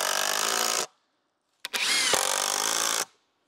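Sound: drill driving screws into wood

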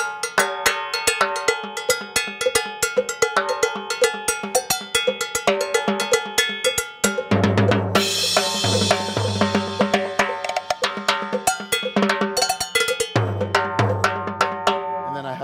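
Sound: timbales and bells played like traditional Latin music

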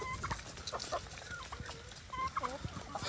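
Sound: chickens

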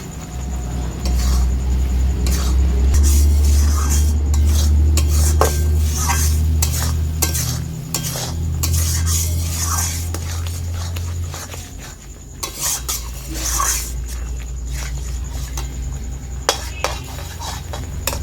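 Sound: stirring raw mango chutney with cashews and raisins in pan

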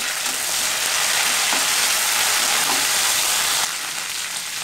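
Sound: curry leaves and coriander frying in oil

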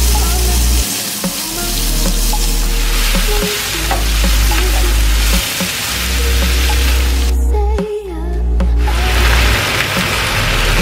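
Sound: leafy greens frying in leftover meat juices

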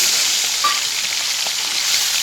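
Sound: small shrimp frying in hot oil

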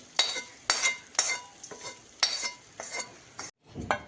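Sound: stirring spice masala into amla rice

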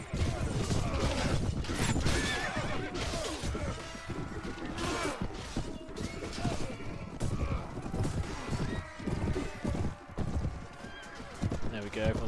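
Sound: horses neighing and galloping in Clash of Kings video game

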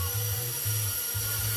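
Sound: RC winch twin motors running, raising the load

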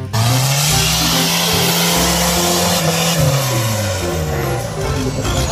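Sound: off-road car driving

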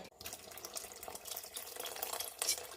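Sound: pouring tamarind water into prawn theeyal curry

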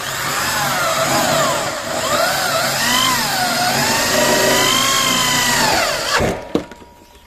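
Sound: power screwdriver driving short screws into light steel

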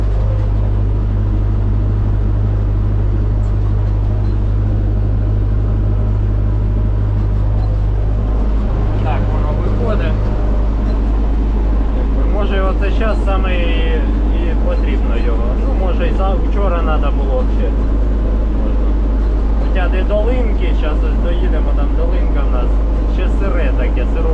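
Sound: MTZ 892.2 tractor pulling homemade harrows in field

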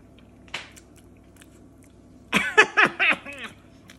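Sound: biting and chewing durian

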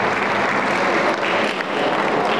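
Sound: audience applause at a karate tournament opening

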